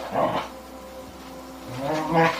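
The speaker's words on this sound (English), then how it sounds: "there are dogs playing next to us in the sofa" Dogs playing on a sofa close by, giving a couple of short whimpering yips and soft vocal bursts at the start and end with quieter rustling in between.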